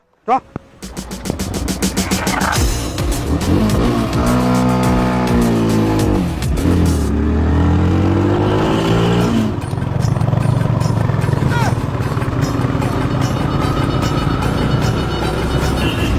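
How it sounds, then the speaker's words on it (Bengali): A new motorbike starts up and rides off, its engine revving loudly with rising and falling pitch under continuous talking and shouting voices nearby. "আরে নয়া বাইক নেই তুই চলা"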